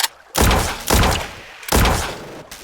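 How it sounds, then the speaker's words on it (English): Rifle shots ring out in three loud, sharp blasts, each followed by a long, booming echo that rolls away before the next one. "Shots rang out"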